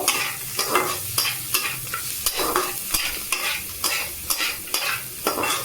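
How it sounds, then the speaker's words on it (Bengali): Fried ingredients for Maggi noodles are stirred in a sizzling pan, a loud continuous crackle with rhythmic scraping strokes of a spatula about twice a second, close and without any talk. "নেড়ে চেড়ে নেব"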